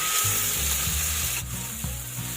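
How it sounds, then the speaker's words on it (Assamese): Chopped tomatoes hit hot oil with browned onions, giving a loud, steady sizzle with stirring clatter and a sharper hiss burst partway through, close up and alone. "এতিয়া মই কাটি থোৱা বিলাহীখিনি ঢালি দিছোঁ।"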